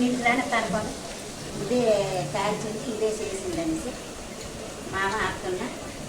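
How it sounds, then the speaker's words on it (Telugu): Chopped amaranth leaves stir-frying in a pan with garlic and curry leaves, a steady hiss and sizzle running beneath someone speaking throughout. "ఇది బాగా వేగిన తర్వాత ముందుగా ముక్కలు చేసుకుని తోటకూరను వేసి కలుపుతున్నాము"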